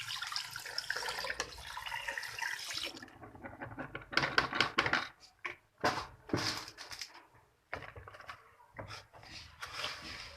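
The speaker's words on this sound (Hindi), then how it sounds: "तो अब हम इसमें 2 लीटर पानी डाल लेते हैं।" Two liters of measured water poured into a pot for a cone ice cream mix, an uneven splashing and trickling stream that starts steady, then breaks into short bursts and pauses, quiet and close.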